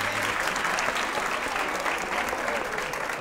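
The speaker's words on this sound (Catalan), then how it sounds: "Aplaudiu-lo, aplaudiu-lo, sisplau." A studio audience at a Catalan TV quiz show applauds steadily, a dense wash of clapping hands at constant loudness for a few seconds.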